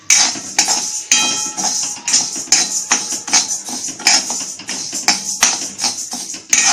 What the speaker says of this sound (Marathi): उडदाची डाळ अशी चांगली हलवून भाजून घ्यायची, गॅस वाढवून